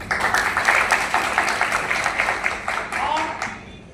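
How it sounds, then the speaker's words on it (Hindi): Applause greets the president at a staging of the play 'Ek Aur Dronacharya' at Bhartendu Academy in Lucknow: a steady wash of clapping runs through the whole stretch with a voice speaking over it. "और जोरदार तालियों के साथ स्वागत कीजिए विशिष्ट प्रेसिडेंट साहब"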